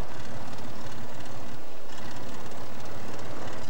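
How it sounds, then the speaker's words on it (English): A light aircraft piston engine roars loudly and continuously during a magneto check with the ignition briefly switched off, its dense drone showing a slight dip and stumble midway. "We should hear the engine start to quit because of ignition loss as both mags become grounded"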